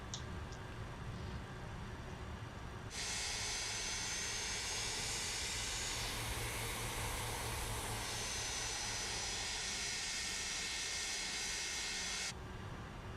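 MD-80 jet engines run while the aircraft taxis at Newark, heard as a loud, steady broadband roar and hiss with a thin whine. The sound rises abruptly, holds for several seconds and then drops back to a low rumble.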